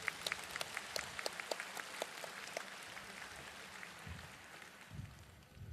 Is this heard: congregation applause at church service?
yes